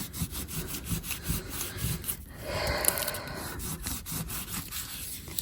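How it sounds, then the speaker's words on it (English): Buffing cloth rubbed briskly back and forth over a painted leather patch, a close rhythmic series of scratchy swishes with a short quieter smoother pass midway. "buffing cloth and we're going to buff it out"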